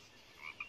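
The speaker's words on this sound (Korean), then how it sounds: "개구리들이 몰려들고 있습니다." Cartoon frogs croak in a brief loud burst, a couple of short raspy calls over a steady background hiss.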